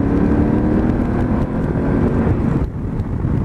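A 2018 Honda Africa Twin Sport with a mapped setup and flapper-valve exhaust roars loudly while being ridden, a dense, rushing engine drone mixed with wind that rises and dips slightly over a few seconds.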